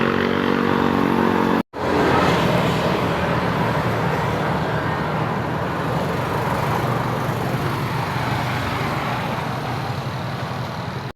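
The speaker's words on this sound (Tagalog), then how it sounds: "This is my motorcycle" A motorcycle rides through road traffic with a steady, loud engine drone and roadway rumble that runs almost unbroken, apart from one brief cut-out near the start.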